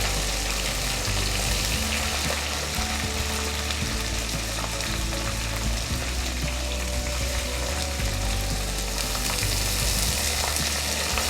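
Ginger garlic paste sizzling and frying steadily in a hot pan, with occasional stirring scrapes, constant and close.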